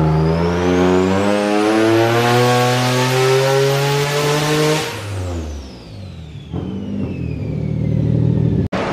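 A turbocharged Nissan 370Z screams on a dyno during tuning, engine pitch climbing hard to a sustained high-rpm wail, then dropping off as revs fall, with a sharp pop near the end.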